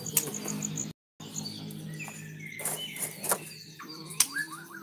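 White-rumped shama birds chirp and whistle in a small breeding cage, giving bright repeated calls and short trills, close and clear, with one brief silent gap.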